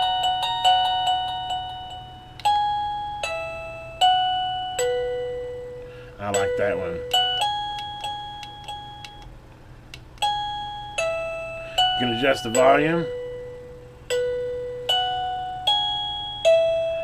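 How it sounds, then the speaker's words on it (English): A PLACUY doorbell chime cycles through several different electronic melodies, a steady series of ringing tones with short decays. A person speaks briefly between the tunes. "Wow, you have different doorbell tones too."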